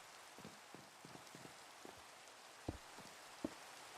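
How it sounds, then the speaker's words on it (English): Steady Minecraft video game rain patters softly and evenly in the background, with a few brief louder ticks and no speech. "You enjoy the Minecraft rain sounds"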